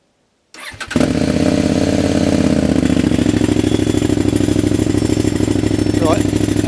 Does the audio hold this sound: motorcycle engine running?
yes